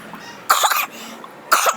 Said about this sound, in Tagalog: Iatake ako ng ubo guys.